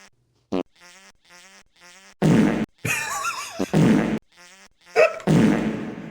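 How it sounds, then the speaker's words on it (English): Electronic fart sound effects played in quick succession as piano-like notes, short buzzy bursts varying in pitch, loud and close with no talk. "what can you do with the fart sounds?"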